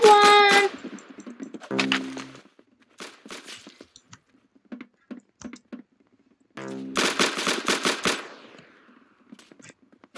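Gunfire in a video game, rapid automatic bursts at the start and again near the end with scattered single shots and clicks in between, close and loud with no talking.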